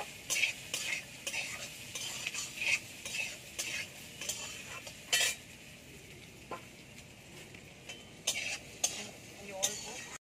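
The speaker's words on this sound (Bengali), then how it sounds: "নারকেলটা দিয়ে দেবো। নারকেলটাও একটু ভেজে নেব।" Grated coconut being stirred and fried in a pan alongside potatoes, with repeated scraping strokes of a utensil against the pan over a soft background sizzle, steady and close throughout.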